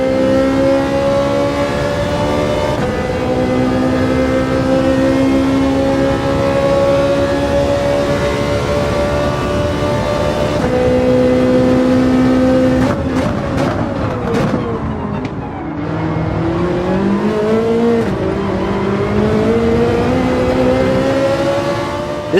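Race cars in a VR racing game hold a loud, continuous engine whine, shifting pitch through gear changes and one braking and re-accelerating dip, with other cars close by throughout.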